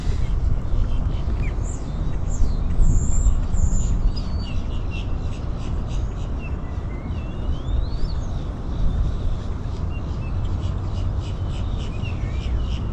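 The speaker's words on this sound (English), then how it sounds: "There's all kinds of birds over here in this person's yard." Birds, including ducks, calling in a yard beside Lake Ida in Florida: faint chirps and whistled calls scattered above a steady outdoor rumble of wind and distant traffic.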